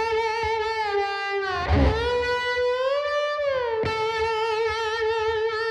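A distorted electric slide guitar, played with an old Bromo Seltzer bottle as the slide, carries a melody of long, gliding sustained notes with smooth pitch slides. It is loud and close, with a brief scratchy noise in the middle.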